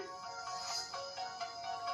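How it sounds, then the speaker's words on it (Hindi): A small tinny smartwatch speaker plays a bright electronic melody with a repeating pulse, thin and close, with no voices. "वॉच में प्ले हो रहा है म्यूजिक।"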